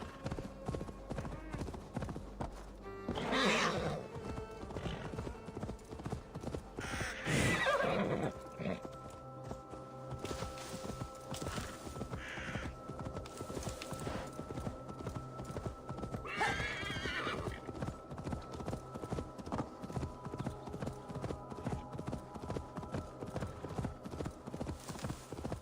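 Horse in Assassin's Creed Valhalla, hooves clip-clopping in a steady walking rhythm throughout, with several loud whinnies and neighs breaking in, close and clear over quiet game ambience.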